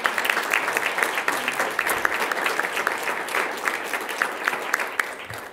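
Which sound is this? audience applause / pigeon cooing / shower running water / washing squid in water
audience applause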